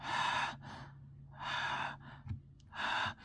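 A voice imitates labored breathing heard in the dark: three long, harsh, raspy breaths at close range, each drawn out and separated by short quieter gaps with small catches in between.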